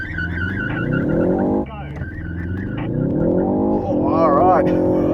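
A Ford Focus ST drag-race launch, the engine revving hard with a tire chirp, a brief drop in revs at a gear change, then climbing again under an excited voice talking over it.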